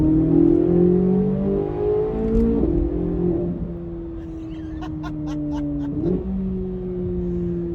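Corvette C8 Z06 with a 5.5-liter flat-plane crank V8 revving, its engine tone rising and falling in steady sweeps, loud and close throughout, with a second swell of revs near the end.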